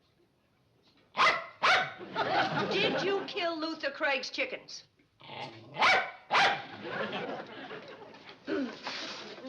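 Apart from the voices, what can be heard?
dog barking and growling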